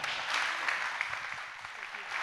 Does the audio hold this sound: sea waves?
no